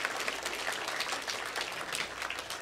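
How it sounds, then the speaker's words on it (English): A church congregation at a Sunday service claps for the people who brought potluck dishes, a steady round of applause held at moderate volume throughout. "Let's give everyone a big round of applause who brought potluck today."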